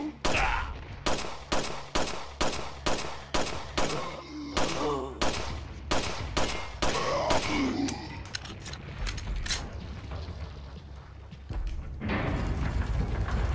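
Gunshots fire in the VR video game Resident Evil 4, a rapid series of loud evenly spaced blasts followed by scattered thuds and mechanical clatter.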